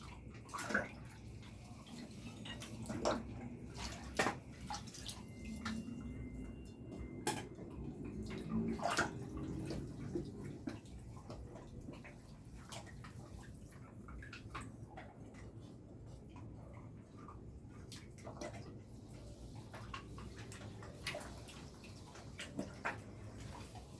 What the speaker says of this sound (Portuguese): Agora nós vamos mergulhar na água aqui. Dar uma lavada neles para estar tirando esse excesso de poeira.